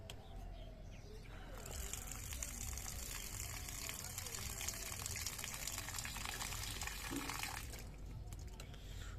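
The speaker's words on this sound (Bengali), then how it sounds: "একটু জল দিয়ে দিই।" Water poured onto a potted periwinkle plant in a village garden on a winter morning, a steady broadband splashing rush lasting several seconds, fairly close, with faint birds in the background.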